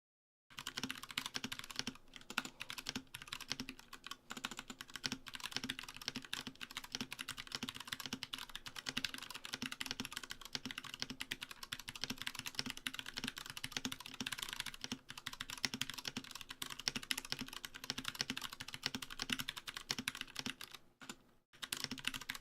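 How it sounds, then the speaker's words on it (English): An NK65 keyboard with a silicone insert, unlubed Cherry MX Brown switches and GPBT keycaps typed on in a rapid, continuous clatter of key presses, close and even, with brief pauses near the end. "NK65 with the silicone insert, Cherry MX Browns unlubed, and the glorious keycap set"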